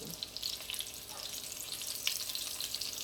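Lemon chicken pieces for an Italian lemon chicken dish sizzle steadily in a hot pan, a dense, continuous crackling hiss with small spits and pops, close and alone without talk.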